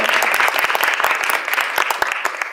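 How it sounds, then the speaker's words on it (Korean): Dense, sustained applause from a church congregation at a worship service, many hands clapping together steadily and close throughout. "하나님께 영광의 박수 올려드리겠습니다"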